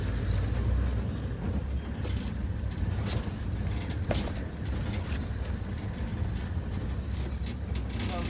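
A safari vehicle rolls along a bush track, giving a steady low engine rumble with occasional bumps and rattles throughout, moderately loud and continuous.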